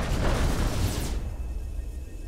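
Explosions from the Executive Assault 2 video game give a loud, dense burst of booming rumble that fades out over about a second and leaves a quieter low hum, with no voices.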